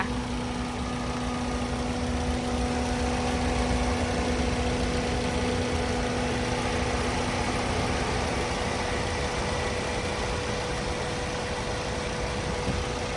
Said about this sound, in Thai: ตอนนี้เราสตาร์ทเครื่องแล้วนะคะ